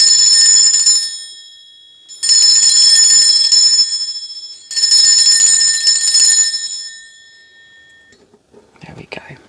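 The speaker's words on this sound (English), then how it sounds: "I am now going to ring a bell just to cleanse the space around us." A bell rung three times in a cleansing ritual, each strike bright and sustained with a long ringing decay, loud and close, followed by faint rustling at the end.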